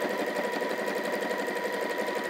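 Sewing machine running a zigzag stitch along a bag's binding, a steady fast mechanical whir with even rhythmic ticking, close and alone.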